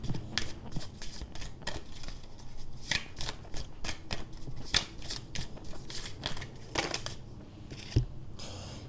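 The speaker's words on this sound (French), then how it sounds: "Il y a plein de cartes là qui sont tombées." Tarot cards being handled and dropping, a steady run of quick papery flicks, slaps and shuffling clicks close by, with one sharper knock near the end and no talking.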